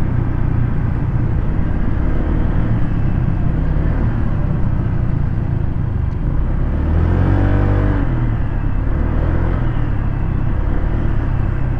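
A Honda Click V3 scooter rides over a rough road, its engine and wind noise forming a steady, loud rumble throughout, with a brief rising whir near the middle as the motor revs.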